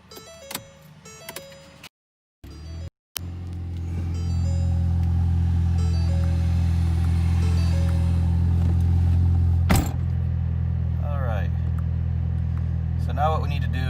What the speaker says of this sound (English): I'm gonna start her up.